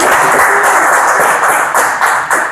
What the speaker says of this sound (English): Forte applaudissement pour lui